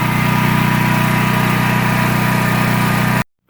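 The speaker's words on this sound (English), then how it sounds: "here's a sound test of the generator" A Champion generator converted to run on permanent propane and installed with a transfer switch, running with a loud, steady engine drone and buzzing vibration that cuts off abruptly near the end.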